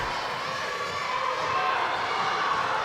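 A noisy crowd at a high school girls' basketball game, a steady roar of voices and cheering filling the gym, loud and continuous with no clear break.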